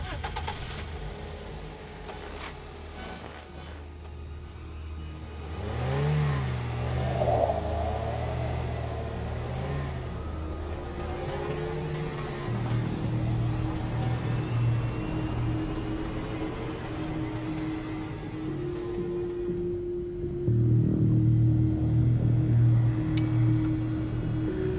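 An off-road vehicle engine drives onto the sand dunes of Sarfaranga cold desert near Skardu, a steady close motor drone that swells into louder revving pushes partway through and again near the end.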